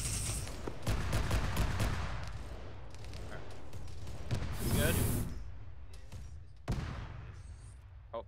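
Arma 3 gunfire in a Warhammer 40k combined-arms battle: dense bursts and sustained volleys crackle throughout, with a louder blast near the middle and sharp shots later, while voices talk over the fighting.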